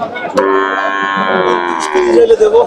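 One loud, close bovine moo at a cattle market, a long drawn-out lowing call from a young calf that lasts about two seconds, with a short bit of market noise around it.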